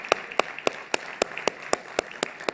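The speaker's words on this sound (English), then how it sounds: "please join me in giving a big round of applause." An audience at the De Beers Forum 2022 applauds with sharp, evenly spaced claps in a steady rhythm, moderately loud over a quiet room.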